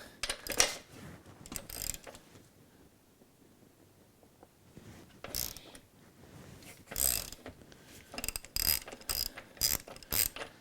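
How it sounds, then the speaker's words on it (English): Ratchet spanner undoing the rear wheel nut on a bike in a garage: close, bursts of quick metallic clicking separated by pauses, loud and alone without talk. "first job, get the rear wheel nut undone"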